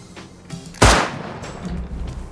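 In the video game Rust, a single loud gunshot cracks out close by, sharp and sudden, with fainter shots and game noise around it.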